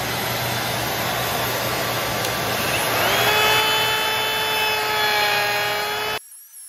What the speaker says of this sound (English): So that's why I will start routing.